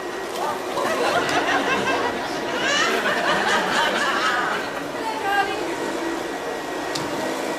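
A domestic vacuum cleaner hoovers at home with a steady mechanical whine running throughout, while several people talk and laugh over it nearby.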